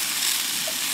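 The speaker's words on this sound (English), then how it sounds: "Saute these onions and mushrooms up." Onions and mushrooms sautéing in a cast iron pan outdoors, a loud, dense, continuous close-up hiss of sizzling with no break.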